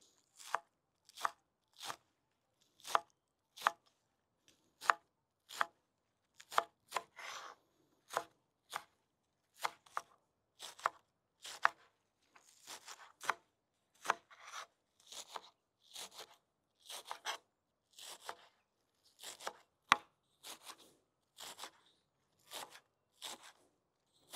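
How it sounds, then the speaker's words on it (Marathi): A knife chops spring onions on a board in a village-style kitchen, with steady, quick, crisp strokes repeating for a long stretch, close and fairly quiet, with no talking. "आपण आता कांदा पात कट करून घेऊ"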